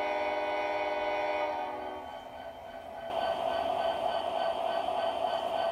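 MTH DCS model train locomotive sound system playing a sustained multi-tone horn blast that fades into steady engine rumble and chuffing, loud and close throughout with no talking.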